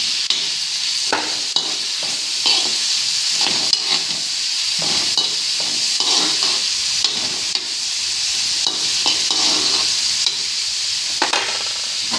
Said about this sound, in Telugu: దీనికి బాగా నానబెట్టుకుని ఒక 1 అవర్ కొంచెం ఫ్రై చేసుకుందాం